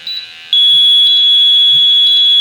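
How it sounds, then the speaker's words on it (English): A Rae Systems wireless gas monitor powers on with a loud, piercing continuous electronic tone that starts abruptly and holds steady, close by, over faint background hum. "It beeps at you."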